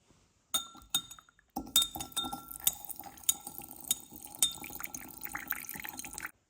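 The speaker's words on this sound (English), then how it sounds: "we're going to add some water to it, distilled water, until it's completely dissolved" Distilled water poured into a glass container holding an acid sample, with repeated bright glassy clinks and the trickle of liquid, close and clear, with no talking.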